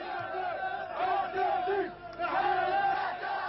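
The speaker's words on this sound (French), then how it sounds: "La foule réagit en réclamant d'autres attaques contre Israël" A large crowd in Gaza shouts together, calling for more attacks on Israel after an Islamic Jihad commander's killing, forming a dense, loud, continuous roar of massed voices with rising surges.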